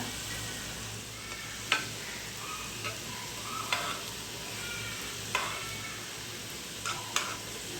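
Banana and flattened-rice (aval) snack frying in hot oil, a steady sizzle with occasional sharp clicks of a spoon turning the pieces, close and alone with no talk.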